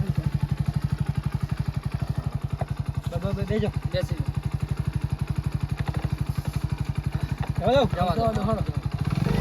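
A motorcycle engine runs close by with a steady rapid thumping beat, rising briefly in a rev near the end, while people talk and shout over it.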